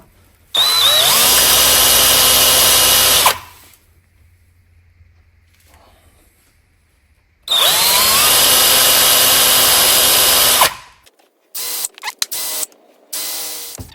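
A power drill grinds into a snapped bolt in a John Deere riding mower spindle in two long, steady bursts separated by a pause, then stutters in short on-off spurts. Loud and close, no talking.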